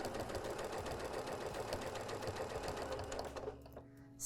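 A Janome sewing machine runs a quarter-inch seam in a fast, steady whirring patter of needle strokes that lasts a few seconds, then stops abruptly.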